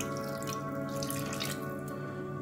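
Water pours steadily into a pot of simmering South African Durban mutton curry, a continuous soft running and splashing sound with no talking.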